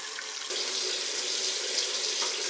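Tap water runs steadily into a bottle at a sink, a continuous close hiss that swells slightly as the flow strengthens and holds for a few seconds.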